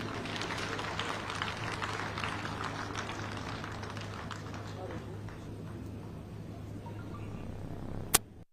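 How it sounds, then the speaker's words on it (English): An Independence Day celebration crowd applauds the outgoing parade commander, a fairly faint, distant spread of clapping that thins out over several seconds, followed by a single sharp click near the end. "May I request that we indeed give her an applause for a job well done."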